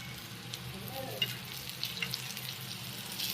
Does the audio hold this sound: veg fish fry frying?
yes